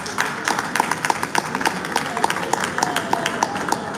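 An audience at a Nigerian real estate training gives scattered, uneven hand claps, close and moderately loud, spread across a few seconds.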